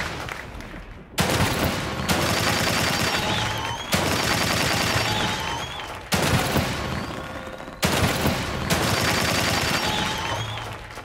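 Repeated bursts of dense gunfire from The Evil Within 2, four loud volleys separated by brief gaps, each with a sharp onset and a sustained rattling tail, with no voice.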